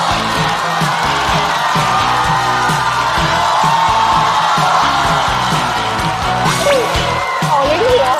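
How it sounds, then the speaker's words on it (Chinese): A studio audience at a Chinese stand-up comedy show cheers, whoops and claps to welcome comedian Mao Dou, a loud steady roar of crowd noise with music running underneath. "掌声欢迎毛豆"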